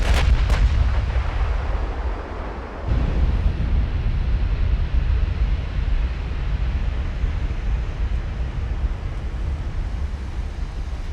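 Heavy naval guns fire in the warship battle game Ultimate Admiral: Dreadnoughts, with a few sharp blasts at the start and then a sustained loud rumble and booming wash. There is no talking.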